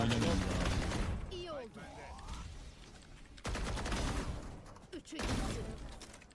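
Rapid bursts of gunfire in the Valorant video game, loud dense volleys separated by brief pauses, with people talking excitedly over them.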